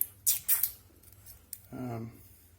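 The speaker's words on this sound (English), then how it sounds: "It's got a sticker on the bezel. I'll just peel that off." A protective sticker is peeled off the bezel of a blue-dial Breitling Superocean 42 watch, giving two short, crisp, close tearing bursts, followed by a voice speaking briefly.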